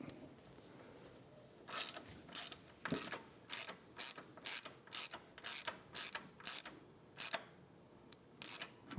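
A special tool backing out an ABS brake fitting on a 2024 Triumph motorcycle gives a run of about eleven sharp ratcheting clicks in quick bursts, close and fairly loud, with no talking.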